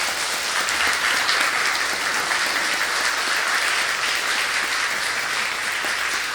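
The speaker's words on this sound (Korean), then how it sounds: "우리 박수로 크게 환영하시겠습니다." A church congregation breaks into loud, continuous applause to welcome a guest preacher, a thick, even roar of many hands clapping at close range with no letup.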